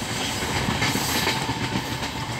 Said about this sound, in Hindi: यहाँ पे कार्सन की वजह से ट्रेन थोड़ा स्लो चल रही है